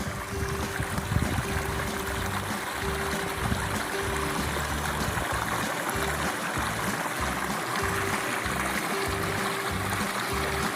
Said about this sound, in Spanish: Un poco de agua, un poco del río San Gregorio